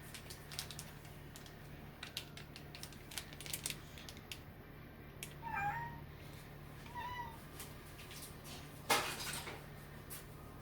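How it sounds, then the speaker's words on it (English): A cat meows a couple of times in the background, faint and drawn out, over steady low hum and occasional clicks like keyboard tapping. "I apologize for my cat. She keeps whining."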